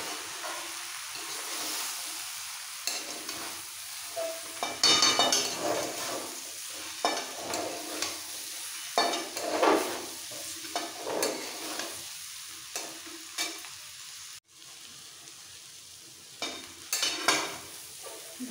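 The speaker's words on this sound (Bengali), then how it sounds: "একসাথে কষাবো।" Cumin and coriander powder stir-fried together in a pot for Durga Puja bhog khichuri: a continuous sizzle under repeated loud scraping strokes of a spoon against the pot, with brief pauses.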